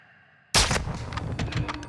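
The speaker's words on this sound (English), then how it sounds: "Oh, you're getting sniped." Sniper rifle shot in Call of Duty DMZ, a sudden loud crack after near silence, followed by a ringing tail and scattered further gunfire further off.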